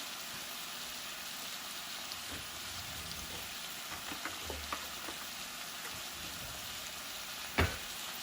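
Bacon strips sizzle steadily in a frying pan while a spatula presses them down. The frying hiss is soft and continuous, with a few light scrapes and one sharp clack near the end.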